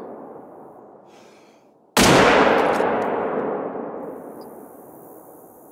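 A single sharp, loud rifle shot in the hunting video game theHunter: Call of the Wild cracks out after a quiet stretch, its boom echoing and slowly fading over several seconds.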